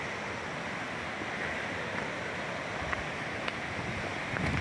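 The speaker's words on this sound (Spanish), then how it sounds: "Yo creo que se va a escuchar más que se va a ver el agua" The Río Mundo waterfalls at Riópar give off a steady broadband rush of falling water, continuous and moderately loud, with a few faint clicks and no talking.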